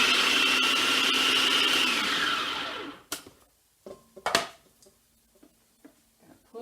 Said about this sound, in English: I'm going to put those in the food processor